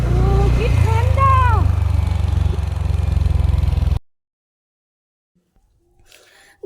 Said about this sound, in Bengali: আমি কত বছর পর আমি স্কুটিটা চালাচ্ছি জানেন